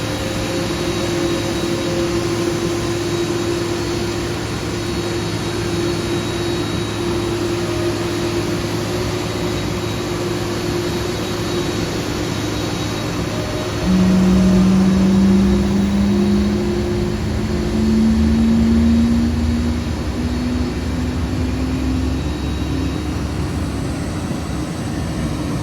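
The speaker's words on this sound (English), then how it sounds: "Engines are spooling up and she is starting to move." Boeing 747 jet engines hum and whine steadily at a distance, with a rising tone midway as thrust builds and the plane starts to move, a continuous roar with no talking.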